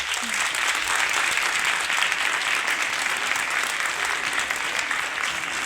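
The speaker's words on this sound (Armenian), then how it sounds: "Նախ ուզում եմ բարձր ծափահարենք" An audience applauds loudly and steadily, dense clapping filling a hall without a break from start to finish.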